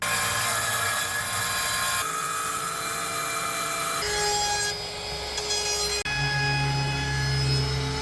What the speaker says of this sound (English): Damn, I'm drilling.